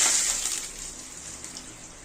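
Water is poured into a kadai that was just used for roasting bread in a bread halwa recipe, sounding as a steady splashing pour that gradually eases off.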